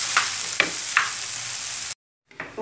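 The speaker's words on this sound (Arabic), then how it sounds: "كنديروهم حتى يتصهدوا شويه في الزيت" Onions and vegetables frying in oil for Moroccan msemen, a continuous close hiss with a few stirring knocks, cut by a brief silence near the end.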